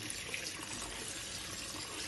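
Running tap water pours steadily as rice is rinsed in a bag, a constant close splashing rush without pauses.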